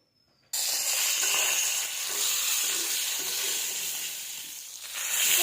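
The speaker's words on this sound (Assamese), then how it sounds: "এতিয়া তাতে তেল দি দিছোঁ। প্ৰথমে মাছকেইটা ফ্ৰাই কৰি লওঁ।" Fish pieces drop into hot oil in a wok and set off a sudden, loud, sustained sizzle that crackles and hisses close by without letting up, with no talk over it.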